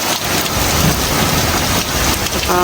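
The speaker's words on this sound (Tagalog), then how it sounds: "Grabe yung kulog oh." Heavy typhoon rain roars loud and close while a low rumble of thunder rolls beneath it, the downpour steady throughout and no one speaking.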